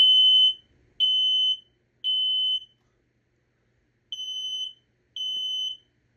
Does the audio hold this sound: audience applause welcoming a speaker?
no